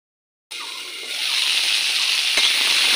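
Okra frying in a covered pan over medium heat. A steady, bright sizzle starts abruptly after a short silence and grows slightly fuller, with one small pop partway through.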